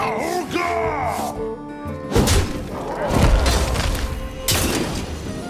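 Bomb blasts from the Hearthstone card game: a couple of loud, heavy booming thuds with crashing, shattering debris, spaced a second or two apart and standing out clearly.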